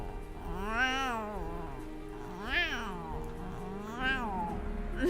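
A person imitates a cat with three drawn-out, wavering meows spaced a couple of seconds apart, close and fairly loud over a faint steady hum.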